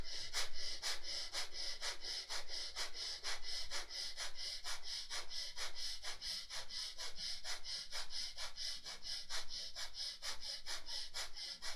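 Rapid, forceful breathing in a breath exercise, each quick inhale and exhale rasping in a steady, even rhythm for about twelve seconds, close and alone without talk.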